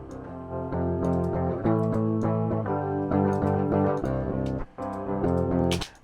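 Unprocessed direct-input electric guitar track from a pop punk mix, thin and clean with no amp tone, playing sustained chords at a steady level with a brief break near the end; no voices.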